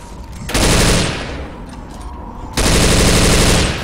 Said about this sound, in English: Start shooting each other now.